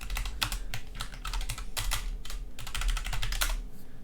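Computer keyboard typing in steady bursts of close, crisp key clicks over a low background hum, with no talking.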